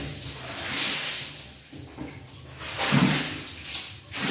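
A homemade mix of soap, disinfectant and bleach splashes and pours across a bathroom floor, with a fairly close, uneven watery rush that swells twice.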